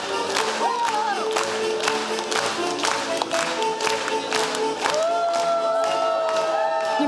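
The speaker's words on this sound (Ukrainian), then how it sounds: "Підтвердженням успішної роботи акторів та режисерів слугують бурхливі оплески після фінального поклону." A theatre audience applauding and cheering after the final bow, loud dense clapping with whoops and shouted cheers riding over it throughout.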